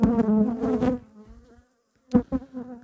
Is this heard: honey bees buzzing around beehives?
yes